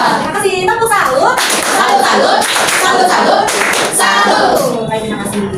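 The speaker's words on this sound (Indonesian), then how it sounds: "Tepuk salut." Children clap a rhythmic salute clap together in a classroom after a group presentation, loud and close, with voices mixed in.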